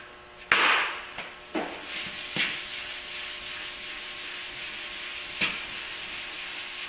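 Sanding with 320-grit paper on an E-coat primed truck fender, a few sharp scraping strokes followed by softer, fading rubs, close and loud with no talking.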